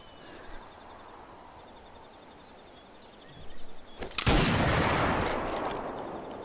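Rifle gunshots from the video game Sniper Elite 4: a quiet stretch, then a sharp loud report followed by a sustained burst of booming, crackling gunfire that lingers to the end.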